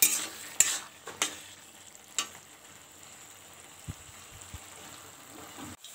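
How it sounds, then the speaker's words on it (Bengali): Potatoes fry in a wok-like kadai with a faint, continuous sizzle, broken by a few sharp clinks and scrapes of stirring near the start. "এবার কড়াইয়ের মধ্যে দিয়ে দিয়েছি আলু, আলুগুলো ভাজা হয়ে গেছে।"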